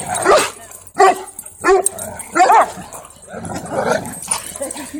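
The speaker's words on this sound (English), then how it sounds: "Is that a growl for him?" At a dog park, a young Newfoundland and another dog trade loud, close barks and higher yips in a choppy rhythm, with softer whimpering noises between the bursts.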